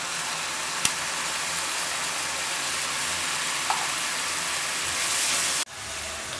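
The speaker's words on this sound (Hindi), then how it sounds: "ये टमाटो प्यूरी को हमने सिर्फ 1 मिनट के लिए फ्राई कर लिया" Tomato puree frying in a pan for chili chicken pasta, a steady broadband sizzle and hiss with a couple of brief clinks, then an abrupt drop near the end to a quieter sizzle.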